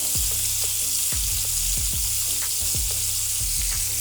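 Shrimp and sausage cook in a hot pan with a loud, continuous sizzle and hiss, broken by small pops and occasional clicks of stirring, close by with no voices.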